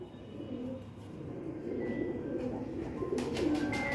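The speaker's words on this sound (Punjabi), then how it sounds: "ਇਹਨੂੰ ਕਹਿੰਦੇ ਆ ਜੀ ਸਲਾਰੇ ਕਬੂਤਰ" Low, soft coos of a Salara pigeon repeat over a steady background hum, fairly close, with a faint rustle near the end.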